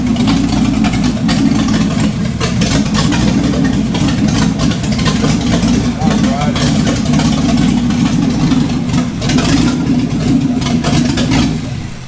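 A 1951 Chevy truck engine runs steadily up close, a loud low rumble holding throughout with slight rises and dips in revs, and voices mixed faintly into the noise.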